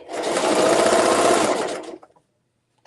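Sewing machine stitching a zipper tote bag, a loud rapid mechanical whir of running stitches for about two seconds, then stopping abruptly with a few faint clicks.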